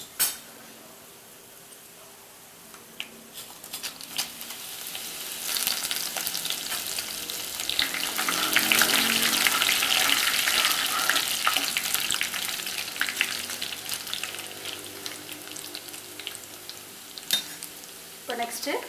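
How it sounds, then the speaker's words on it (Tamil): Dried red chillies crackle and sizzle in hot oil for puliyodharai tamarind rice, the frying swelling louder midway, with occasional utensil clinks against the pan; close and continuous, no talk. "அடுத்தது இப்போ மிளகாய் சேர்த்துக்கலாம்."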